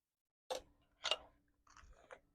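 Someone tastes mashed potatoes and chews close to the mic, with a few soft, wet chewing bursts separated by short pauses in an otherwise quiet room.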